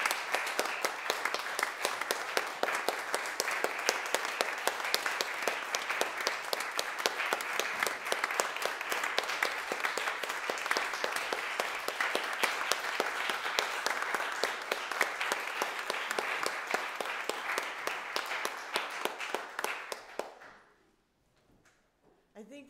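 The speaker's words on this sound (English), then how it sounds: "So let's have a round of applause and lots of cameras." Sustained audience applause at a church concert, dense steady clapping from a large crowd lasting about twenty seconds before fading out abruptly into near silence.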